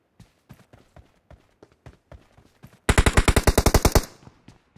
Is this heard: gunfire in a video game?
yes